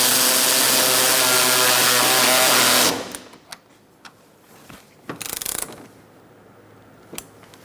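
Bolts being run down with a power tool during a radiator replacement on a 2014-2019 Kia Soul 1.6L L4: a loud, steady mechanical whir for about three seconds, then scattered light clicks and clanks of parts.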